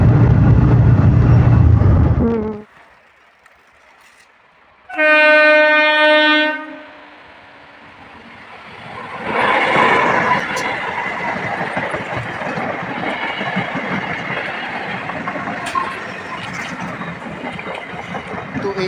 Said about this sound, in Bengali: দেখতে পাচ্ছ এই সকালের প্রথম ট্রেন যাচ্ছে, আর আমি এখন দাঁড়িয়ে আছি রেলগেটে।